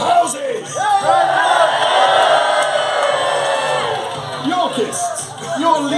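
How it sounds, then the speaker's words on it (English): A large crowd at a Wars of the Roses live show at Warwick Castle roars and whoops in a sustained cheer for their house, with loud overlapping shouts that swell and then fade slightly. "A cheer for your houses!"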